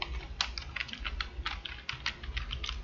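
Quick, light keystrokes on a computer keyboard in an irregular patter with brief pauses, close and fairly quiet with no talking.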